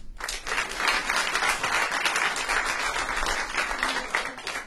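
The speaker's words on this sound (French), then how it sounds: "Quels applaudissements de je n'ai plus d'énergie." A comedy festival crowd in Joliette claps in a full, steady round of applause that rises quickly and stays even before easing slightly near the end.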